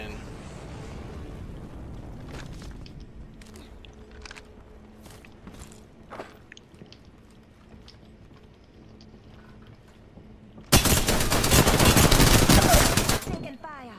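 Gunfire in the video game Apex Legends: scattered single shots and impacts under in-game ambience, then a loud, sustained burst of automatic fire near the end.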